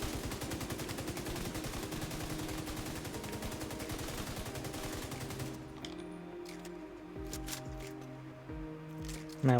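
Rapid sustained gunfire in The Division 2, a dense burst of shots running for several seconds before breaking into scattered separate cracks with quieter gaps.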